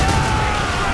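Ship cannons fire in Assassin's Creed Rogue during a naval battle, a heavy roaring blast with deep low rumble that fills the whole moment loud and close.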